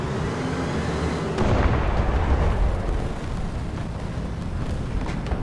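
A tank cannon fires in War Thunder from a Chi-Ha Short Gun, a deep booming blast that swells quickly and then fades into a long rumbling tail under steady engine and battlefield noise.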